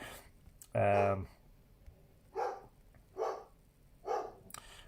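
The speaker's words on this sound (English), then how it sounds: "so you'll have to forgive the dog" A dog barks indoors: one loud, sharp bark, then three softer, more distant barks spaced about a second apart, over quiet room tone.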